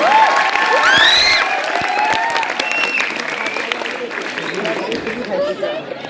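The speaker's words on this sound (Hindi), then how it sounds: "तो एक बार उत्कर्ष शर्मा के लिए तालियां हो जाए।" An audience at a film promotion event claps and cheers loudly at close range, with whoops and crowd noise mixed into the applause and voices calling out over it.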